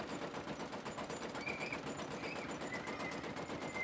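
Gunfire in War Thunder rattles in a steady, rapid machine-gun rhythm, faint and continuous throughout with no voices over it.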